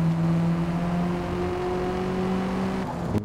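Car engine in the racing game Forza Motorsport 8, a steady droning hum with sustained tones that hold and slowly shift, ending with a brief change near the close.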